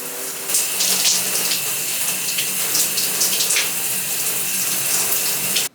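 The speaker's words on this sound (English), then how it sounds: "now I am going to go ahead and hop in the shower" A shower runs as a loud, continuous hiss of spraying water, with light splashes and shifts in the flow that stop abruptly at the end.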